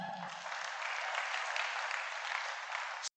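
A crowd at a church youth forum breaks into dense, steady applause that holds for about three seconds and then stops abruptly. A few voices are heard right at the start.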